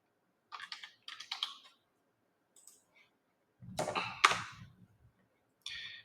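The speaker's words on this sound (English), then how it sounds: "type in Ortega." Short bursts of typing on a computer keyboard entering a property search, quick clusters of close, crisp key clicks separated by silences, with a louder flurry of keystrokes near the end.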